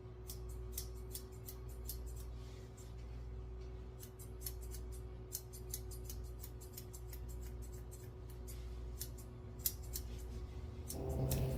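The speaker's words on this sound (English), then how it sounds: "I'm rounding off the ends of her ears with my curved scissors." Curved scissors trim the ends of a Bichon-Shih dog's ears at a grooming table, snipping in quick, close bursts of crisp metallic clicks over a constant background hum.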